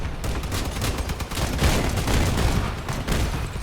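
A dense fusillade of missiles and grenades firing in the vehicle combat game Crossout, with rapid overlapping blasts and crackling explosions sustained loudly throughout, no voices.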